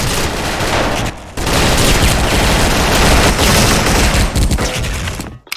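Sustained automatic gunfire from a DISCO AK74 rifle in a shooting video game, a dense, loud barrage of rapid bursts running almost continuously with a brief gap near the start.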